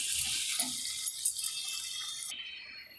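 Hot water poured into a rohu fish curry in a pan, a splashing, bubbling pour over a couple of seconds before it stops, heard close up.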